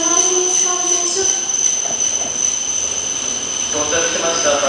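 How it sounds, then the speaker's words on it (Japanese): A Shinkansen train rolls along a morning platform at Tokyo Station with a steady rumble and faint wheel squeal, while a station announcement and chimes carry over it throughout. "後ろから列車が通ります。"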